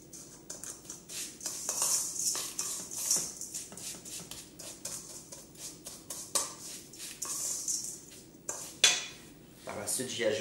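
Utensils clink and scrape against a bowl as a potato salad with roasted radish and fennel is tossed with dill and chopped beets, busy, close, irregular knocks and rustles for about ten seconds, no voices.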